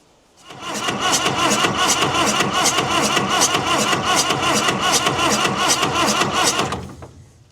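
An engine cranks with a fast, even rhythmic chug for about six seconds while fuel at the injector pump is checked, loud and close, then stops without catching.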